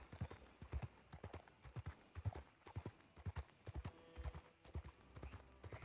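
Horse hooves clip-clop in a steady, brisk trotting rhythm in Red Dead Redemption 2, each footfall crisp and fairly close, with quiet background ambience.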